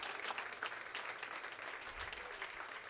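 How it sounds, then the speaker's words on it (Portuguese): Church congregation clapping in a steady, crowded patter of many hands, fairly soft and distant, sustained throughout with a faint low murmur beneath. "Aplauda ao Senhor"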